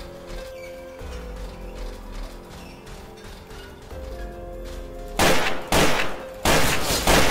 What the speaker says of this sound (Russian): Такой звук прикольный выстрела, когда в вентиляции стреляешь.